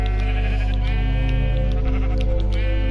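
Sheep in the Minecraft video game giving a loud, sustained bleat, close and alone with no talking.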